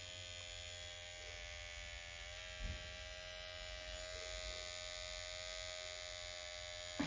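A Dr. Pen electric microneedling pen buzzes steadily with a high, even whine held close for several seconds, with only small bumps in level as it touches the skin.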